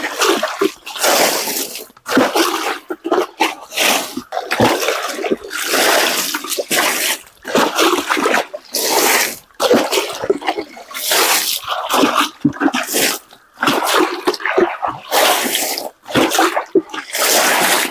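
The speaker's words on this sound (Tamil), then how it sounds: "தண்ணி ஊற்றினாலும் பொறுமையாக கை வச்சு சுற்றி ஊற்றுங்க" Water splashes and gushes steadily onto soil around the base of a red banana plant, with uneven bursts and brief pauses as it is poured in a continuous stream.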